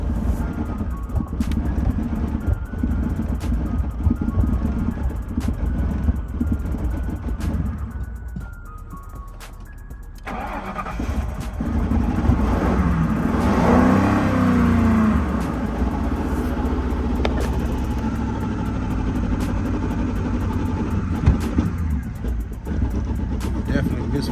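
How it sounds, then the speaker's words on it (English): A Ford Grand Marquis engine idles roughly with a misfire, a steady uneven rumble throughout, with speech and other sounds layered over it partway through. "Definitely misfire."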